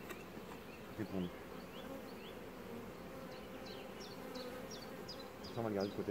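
Honeybees buzz steadily around brood frames at an opened hive, a dense continuous drone with brief louder swells, while birds chirp faintly in the background.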